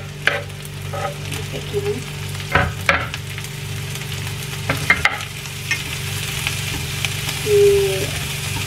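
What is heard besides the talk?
stir-frying green mussels with vegetables in a pan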